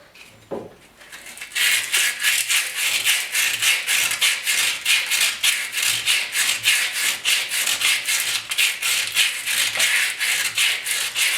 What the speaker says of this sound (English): And that will require some sandpaper